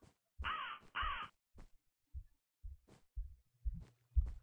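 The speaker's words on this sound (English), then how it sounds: "So we have birds now." Ravens in the Minecraft video game give two harsh, close caws in quick succession, followed by a scattering of soft low thumps and faint clicks.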